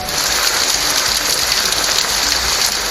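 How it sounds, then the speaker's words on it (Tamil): Heavy rain pours steadily in Chennai, a loud, dense, unbroken hiss of water hitting surfaces that holds at constant intensity throughout with no pauses. "சென்னை மற்றும் அதன் புறநகர் பகுதிகளில் பரவலாக மழை பெய்தது"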